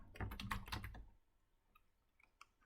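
Fast, close keystrokes on a computer keyboard as a URL is typed, a quick cluster of clicks followed by a few scattered faint taps in near silence.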